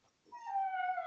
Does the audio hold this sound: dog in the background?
yes